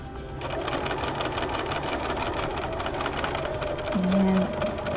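A sewing machine stitches a curved pocket bag seam with a steady rapid mechanical whir and rhythmic needle ticking, close and continuous throughout.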